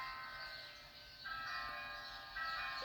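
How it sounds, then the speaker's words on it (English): Church bells ringing at noon near a house, a steady, sustained peal of overlapping tones heard from a distance, swelling slightly louder partway through with no talking. "They ring the bells."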